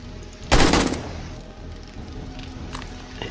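One loud, close AK rifle burst from 7 Days to Die rips out briefly, then fades to quiet background with faint distant pops.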